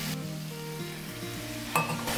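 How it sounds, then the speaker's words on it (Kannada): Water goes into a sizzling cauliflower gravy in a hot pan, a steady frying hiss with a brief splash-like burst near the end, close and alone with no talk. "ಸ್ವಲ್ಪ ನೀರು ಹಾಕ್ತಾ ಇದ್ದೀನಿ."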